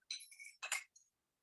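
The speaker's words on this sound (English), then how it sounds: "I have a glass filled with halfway with ice, and we will pour our mixed drink in there" Ice cubes in a glass filled halfway clink as a mixed drink is poured over them: a few quick, bright, close clinks in three short bursts, then quiet.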